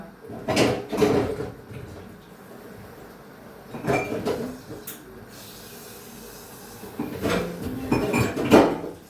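Dishes, tea cups and bowls being washed at a kitchen sink: clinking crockery and cutlery in three clusters over running water hiss, close and moderately loud.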